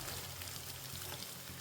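Boiled ker berries frying with fenugreek in hot oil over high heat for a traditional Rajasthani dish, a steady close sizzle with soft stirring and a brief clink of a utensil at the very end.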